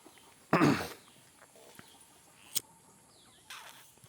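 Wild-strain fighting chickens on a rural farm give a loud burst of clucking and squawking, then a few brief, fainter calls with short gaps of quiet in between.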